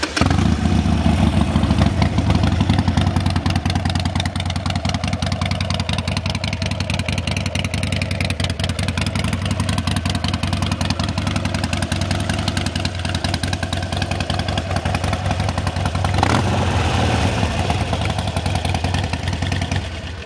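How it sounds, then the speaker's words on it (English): A 2007 Harley-Davidson XL1200C Sportster with a fuel-injected engine idles steadily and close, a continuous loud rumble with a fast even pulse throughout. "Let's pop it off and give it a listen. It is a fuel injected bike."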